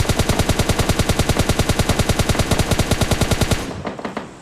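Automatic gunfire in PUBG Lite, a loud rapid burst of evenly spaced shots for about three and a half seconds, then cut off, leaving scattered fainter impacts and echoes.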